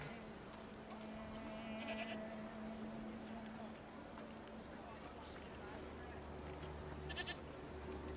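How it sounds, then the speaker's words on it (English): Goat-like bleats sound over a steady soundscape in the video game The Thaumaturge with background hum, a few short nasal cries rising above the ambient noise. "Goats!"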